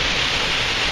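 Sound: waterfall roaring beside stairs in Iceland

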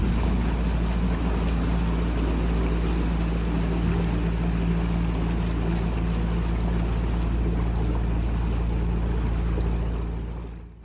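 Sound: narrowboat engine revving

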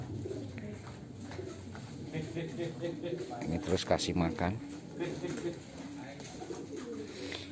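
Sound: pigeons cooing at the loft

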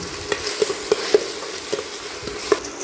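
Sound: sautéing onion and tomato in a pan

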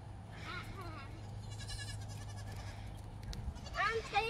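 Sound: goats bleating while being chased

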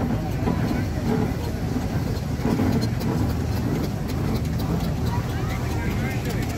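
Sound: vintage 1927 tractor engine running

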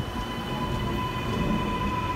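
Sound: Sydney Metro train departing platform 2 at Chatswood

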